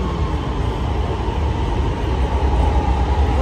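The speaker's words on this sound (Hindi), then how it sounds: "ट्रेन जाने लगी है, चलो जी चलो, चल भी जा। ये गई जी।" Orange Line metro train in Lahore pulling out of a station, a steady, loud rolling rumble and hiss of the cars that holds throughout with no voices.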